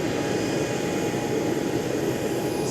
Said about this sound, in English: It's our plane